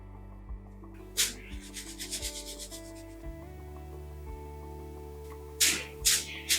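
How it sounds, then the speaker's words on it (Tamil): Roasted flour for puttu being sifted through a sieve, a soft rhythmic rubbing and shaking with brief brushing bursts near the start and end, heard alone at close range. "இப்ப இதையும் ஜலிச்சு எடுத்துக்கலாம்."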